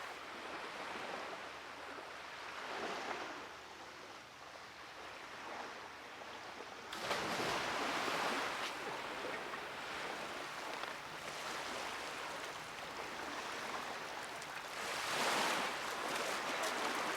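Waves washing onto a beach in Hong Kong, a steady roar of surf that swells louder partway through, with wind noise and no talking.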